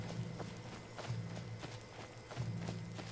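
Horse hooves in Skyrim clip-clop in a steady walking rhythm as the horse approaches over a low game ambience, with no one speaking.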